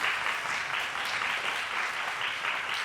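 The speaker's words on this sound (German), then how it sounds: "Ein Applaus." A live talk-show audience applauds with sustained, dense clapping that stays steady at moderate loudness from start to finish, with no voices on top.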